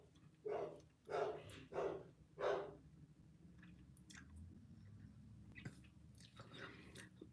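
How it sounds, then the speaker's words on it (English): Four quick, muffled yaps from teacup poodles next door at a distance, followed by quiet, low talking. "The killer poodles next door must be barking"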